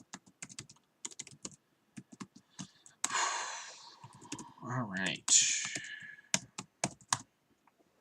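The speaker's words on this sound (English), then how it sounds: "I keep typing in first, because I need to know how many cards I'm bringing in" Keys clatter on a computer keyboard in quick irregular bursts, fairly close, while someone talks over the typing at times.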